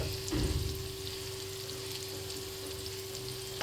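Prawns frying in a pan for a Goan prawn rava fry, giving a steady, soft sizzle throughout with a brief louder burst near the start and a faint hum underneath.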